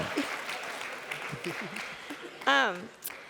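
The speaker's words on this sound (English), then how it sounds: "Now would be the time for you to clap, by the way." Faint audience applause at a talk on faith, race and politics, a low steady patter lasting a few seconds with voices speaking over it.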